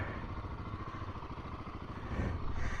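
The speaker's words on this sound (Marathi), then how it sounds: "बस आपली बाईक असं दुसरं कोणतरी चालवताना बघतोय मी पहिल्यांदा" A motorcycle engine running close by on the Kaza-Manali highway, a steady low throbbing rumble that swells slightly toward the end.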